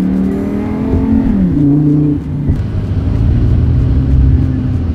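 Lamborghini Superleggera engine revving loudly up close, its pitch rising and falling through several gear-like shifts before settling into a deep, rumbling idle.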